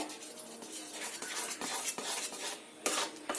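A spoon stirs a flour mixture in a bowl for soft pitha, making close, uneven scraping and knocking sounds with a few sharp clinks against the bowl and no voices.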